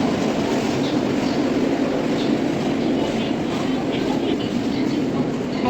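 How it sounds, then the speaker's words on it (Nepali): A Vande Bharat express train runs on rails between Siliguri and Guwahati, a loud, steady rumbling roar with faint rhythmic clatter throughout, heard up close from inside or beside the train. "अब हामी चढ्छ ट्रेनमा।"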